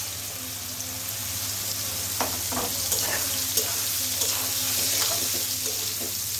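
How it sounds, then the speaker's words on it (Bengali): Soybean chunks fry in hot oil left from browning potatoes, giving a steady close sizzle with scattered crackles and a few clinks of stirring, no voices. "এখন আমি ওই তেলের ভিতরেই সয়াবিনগুলো ভেজে নিব"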